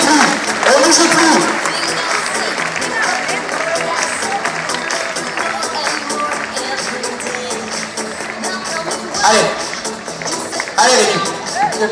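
Spectators in a bullring crowd applaud a recortador at a bull-leaping event in Beaucaire, a loud sustained wash of clapping and crowd noise with rising swells and voices mixed in.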